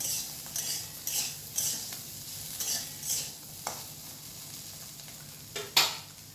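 Slices of spiny gourd frying in a little oil in a pan, with a soft continuous sizzle and repeated scraping strokes of a spatula stirring them at a steady rhythm, close and fairly quiet.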